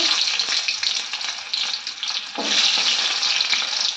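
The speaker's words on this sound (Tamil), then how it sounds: "இன்றைக்கி நம்ம கட் பண்ணி வச்சுருந்த சின்ன வெங்காயம் 4-5 சின்ன வெங்காயம் சேர்த்துக்கலாங்க" Small onions (shallots) hitting hot oil with mustard seeds and chana dal for a beans poriyal, producing a loud, close, continuous sizzle with stirring scrapes and a fresh surge of crackling midway, no voices.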